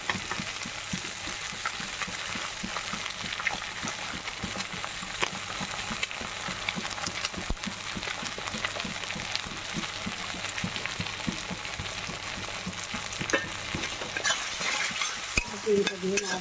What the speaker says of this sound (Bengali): চিনিটা দিয়ে নাড়ছি।